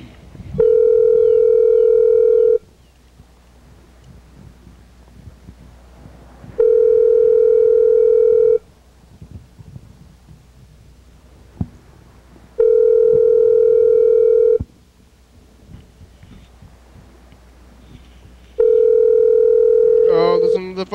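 A telephone ringing on an outgoing call, with four evenly spaced two-second rings separated by quiet gaps, loud and clear, with faint background murmur in between.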